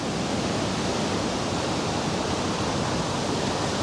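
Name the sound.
river water flowing strongly near canoe route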